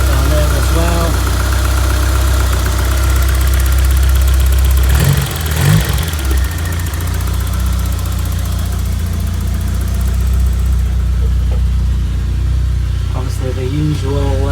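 A 1991 Vauxhall Nova GSi engine idles loudly and close after a cold start, a steady low rumble with a brief disturbance midway and faint talk in the background.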